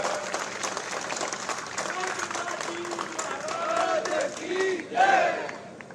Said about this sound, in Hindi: एक बार दोनों के सम्मान में जोरदार तालियों से स्वागत।